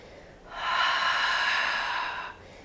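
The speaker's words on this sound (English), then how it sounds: "Breathing as you press out." A single long, breathy exhale pushed out during a pelvic floor exercise while pressing out against a Theraband with both legs, close and fairly loud, rising and fading over about two seconds with no talk.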